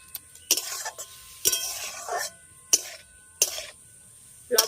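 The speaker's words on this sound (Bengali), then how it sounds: "লবণটাকে খুব ভালো করে আনারসের সঙ্গে মিশিয়ে নেবো" Salt gets mixed into pineapple chutney in a pan with a few separate bursts of scraping and stirring, each a second or so long, spaced by quiet pauses.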